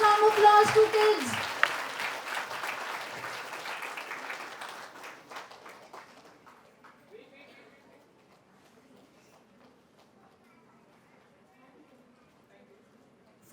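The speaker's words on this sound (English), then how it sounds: "Parents, we can give a huge round of applause to kids" Applause from parents at a school annual day function for the children, starting moderately loud with a voice over it, then fading away to near silence.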